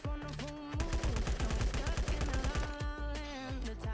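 Rapid bursts of video game gunfire in Death High, a shooter set on floor 117, with dense automatic shots and a ringing tone running throughout and no talk.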